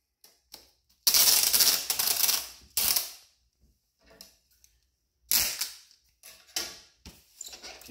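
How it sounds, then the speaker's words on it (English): Packing tape pulled off a roll to seal a cardboard comic shipping box, loud ripping screeches in a few sharp bursts separated by quiet gaps, close by with no talk. "we're gonna go ahead and tape this down."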